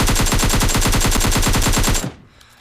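Sustained full-auto AKM rifle fire with a compensator in PUBG Mobile, a loud rapid burst of evenly spaced shots lasting about two seconds before cutting off into a short fading tail.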